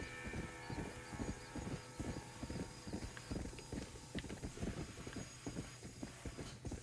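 Horse hooves clip-clop in a steady, rapid rhythm in Red Dead Redemption on Nintendo Switch, close and continuous at a galloping pace with faint game ambience beneath.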